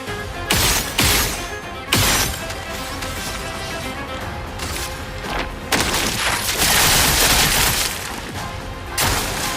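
Bursts of machine gun fire in a video game, loud and dense with crashing impacts, coming in several sustained volleys with brief gaps between them.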